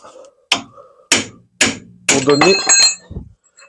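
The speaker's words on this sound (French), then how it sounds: "je vais venir écarter ici avec un burin" A chisel is hammered to spread a front suspension ball joint on a 2000 Ford Ka, giving four sharp metallic strikes at roughly half-second intervals, close and loud, the last one ringing longer.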